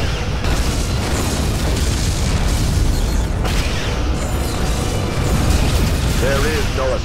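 Romulan ship blowing up in the Star Trek Legacy space combat game, a sustained loud rumbling boom that fills the whole stretch with dense low roar and crackling debris, with a voice speaking briefly over it.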